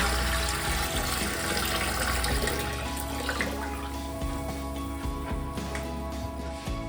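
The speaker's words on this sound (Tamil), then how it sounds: "இப்போ தண்ணி நிரப்பியாச்சு." Bore water pours into a fish aquarium tank as a continuous, close splashing rush that gradually thins out.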